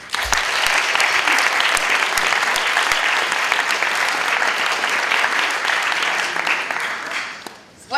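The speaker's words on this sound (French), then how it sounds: "On les applaudit." An audience applauds at a school awards gala for graduating secondary students, a loud, dense, sustained clapping that fills about seven seconds before tapering off.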